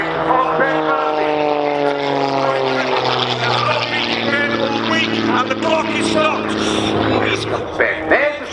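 A Red Bull Air Race propeller plane flying an aerobatic arc manoeuvre at Farnborough International Airshow 2018, its engine droning loud and steady with falling pitch, while a commentator speaks over it.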